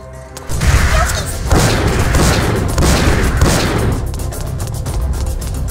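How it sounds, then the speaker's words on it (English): Heavy machine gun fire in the video game Metal Slug 3D, a loud continuous barrage of rapid shots and booming impacts that follows a brief quiet start. "Heavy machine gun."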